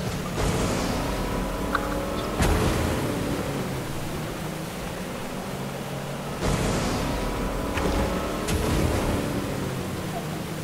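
A boat engine in the Fortnite battle royale video game drones steadily with rushing water spray, a continuous loud broadband wash with periodic surges as the boat hits waves.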